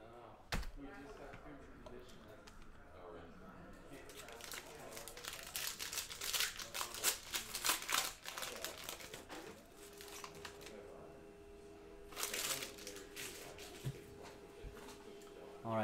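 Foil pack of 2018 Prestige NFL trading cards crinkled and torn open, with bursts of crumpling and ripping close to the mic, while a voice talks quietly in between.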